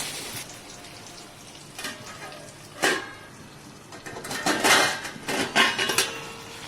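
A lid clatters onto a metal cooking pot of potatoes set to boil with salt, giving several sharp metallic clanks and rattles close by, with softer kitchen clatter in between and no talking.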